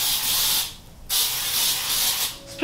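Cooking oil sprayed onto a waffle maker in short hissing bursts, close and fairly loud, with a brief pause between sprays.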